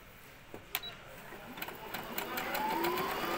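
A Brother sewing machine stitching close by, a steady mechanical whir that builds slightly in intensity, with faint clicks and a soft rising tone near the end.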